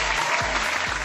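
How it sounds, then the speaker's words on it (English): Audience applause on a drone show episode, a brief steady burst of many hands clapping at fairly loud level, with a low hum and faint thumps underneath. "give him some applause"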